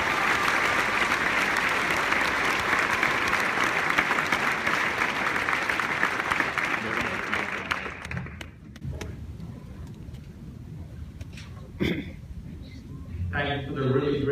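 A crowd applauds loudly and steadily to welcome a graduation speaker to the podium. After about eight seconds the applause thins into scattered claps and rustling, with a few sharp taps near the end.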